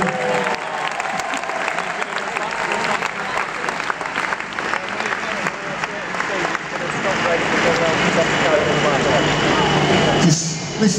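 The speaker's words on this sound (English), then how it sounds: "Give him a round of applause, here he is." Steady, loud crowd applause for a Derny rider at a keirin track cycling event, with a faint motor hum beneath, and a voice talking over the clapping.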